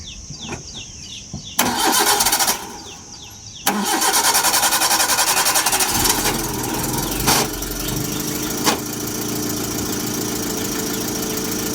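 A car engine cranks briefly, pauses, then catches and settles into a steady, loud idle with a few revs, close by and with no talk.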